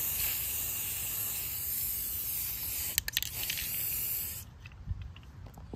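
An aerosol can sprays paint onto airsoft parts outdoors in a steady close hiss, then gives a few sputtering bursts before stopping.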